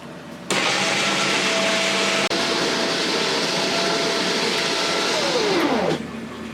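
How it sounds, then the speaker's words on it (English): Inexpensive electric winch raising a light rack over a 500-gallon coral reef aquarium: a steady, close motor whir runs for about five seconds with a brief click midway, then winds down in pitch and stops. "We're making use of an inexpensive electric winch. It's got a switch over here to make the lights go up and down."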